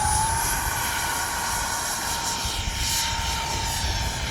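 A small twin 40mm ducted-fan X-Fly F-22 Raptor RC jet whines steadily and loudly at close range as it comes in to land, with a faint pitch glide at the start.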